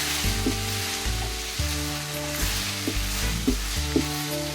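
Green peas stirred into sizzling chicken keema in a pan, with a steady frying hiss and a low rhythmic hum of the stove under repeated spatula strokes.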